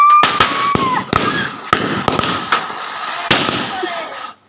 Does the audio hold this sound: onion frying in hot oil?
no